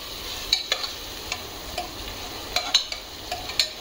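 Curry leaves and onion frying in a pan, a steady low sizzle broken by scattered sharp crackles and pops, with occasional spatula scrapes and stirring knocks close by.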